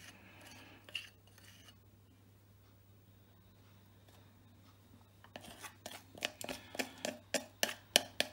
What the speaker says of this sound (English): spoon the mixture in.